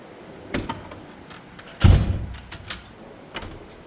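A Snap-On KCP1423 toolbox drawer of SAE wrenches opens and shuts with metallic sliding rattles, a loud thudding clunk in the middle and a few lighter clicks, with no talking.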